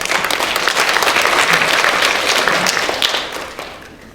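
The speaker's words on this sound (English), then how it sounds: "a round of applause for Rachel" A room full of people claps steadily for a few seconds, loud and close, then the applause fades out toward the end.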